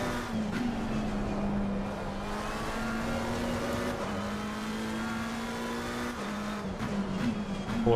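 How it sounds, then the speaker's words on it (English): Porsche GT3 race car braking late into a corner at Imola in a multiclass sim racing game, a steady engine drone holding near and loud throughout with other cars audible around it, no talk. "Porsche braking super late"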